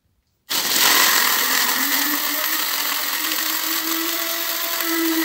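An electric grinder starts suddenly and whirs loudly and steadily while grinding hot chili peppers into powder, its pitch shifting slightly as it runs.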